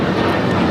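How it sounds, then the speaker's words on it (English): An Alaska Airlines Boeing 737-900ER jet takes off at LAX, a steady, loud, broadband engine roar that stays constant and close throughout the brief moment, with no voices. "1430 taking off to Los Cabos on the 737-900ER"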